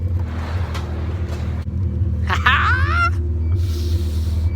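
A Honda CRX with a B17 engine idles with a steady low rumble, close by, while a short high whine or squeal cuts in briefly partway through.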